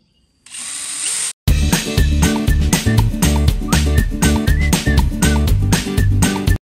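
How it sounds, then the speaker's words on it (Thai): A power drill bores holes into a steel gate to fit a lever lock, first a short high whine, then a longer run of loud rhythmic grinding bursts as the bit works through the metal, close and alone. "เจาะไปเรื่อยๆนะครับผม"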